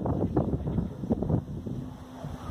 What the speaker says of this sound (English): We got a little wind.